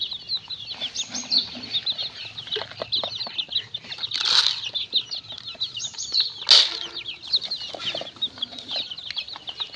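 Chickens and month-old chicks in a poultry shed cheep and cluck constantly nearby, broken by two bursts of loud wing flapping, with no talk.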